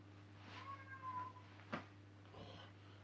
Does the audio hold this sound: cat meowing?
yes